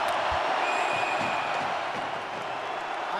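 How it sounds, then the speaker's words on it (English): A crowd fills the arena at an NHL Stanley Cup Final ice hockey game between the Florida Panthers and Edmonton Oilers, a steady, dense roar held at even loudness throughout. "We'll let it take away for the last 30 seconds with the crowd here."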